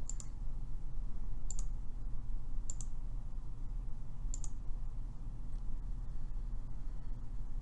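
Sharp computer mouse clicks while using payment software, four or five single clicks spaced about a second apart, close and distinct over a steady low hum.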